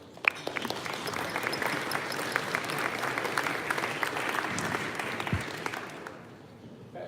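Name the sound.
audience applause welcoming speakers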